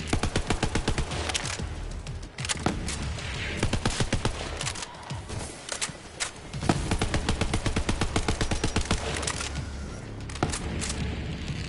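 Gunfire in the video game Borderlands 3: sustained rapid automatic bursts, loud and close, with brief pauses between volleys and a few heavier booms.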